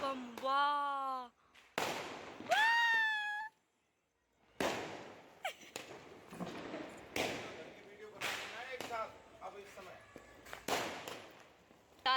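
Firecrackers bursting during Diwali celebrations in Rajasthan, a few sharp isolated bangs spaced apart, interleaved with a voice and people talking nearby, with whistling tones early on.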